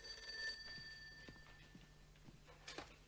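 A telephone rings in a home with a thin, high electronic tone, under low background noise and a few soft knocks and clicks, fairly faint and without talking.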